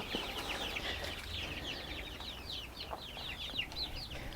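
Free-range village chickens cluck and chirp steadily in a busy, overlapping chorus, fairly close, with no one talking.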